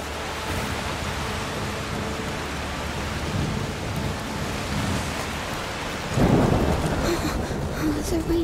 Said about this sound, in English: The rain is getting worse.